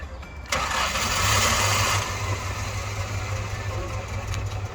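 A Gaz Volga M21 car engine cranks and catches about half a second in, then settles into a steady, low rumbling idle close by, with no talking over it.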